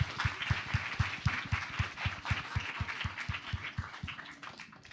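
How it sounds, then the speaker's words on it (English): Audience applause at a policy forum, a steady mass of clapping that fills the room, with a regular low thumping pulse running beneath it and tapering slightly toward the end. "Please give yourselves a round of applause."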